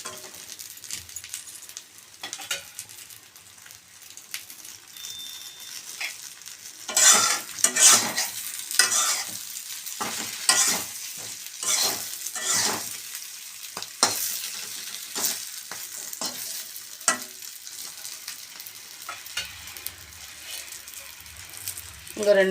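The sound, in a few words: frying and stirring in a pan on low flame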